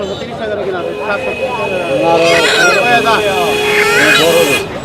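Chickens and ducks at a rural poultry market, occasional squawks and quacks under loud continuous talk from people nearby.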